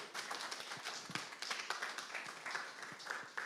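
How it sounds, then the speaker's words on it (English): An audience applauds at a panel discussion, a steady patter of many hands clapping together at moderate distance for a few seconds, with no talk over it. "let's give him another round of applause"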